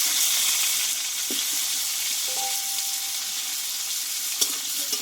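Potato pieces fry in hot oil with panch phoron spices while being stirred, a steady close sizzle with a few soft clinks of a spatula against the pan.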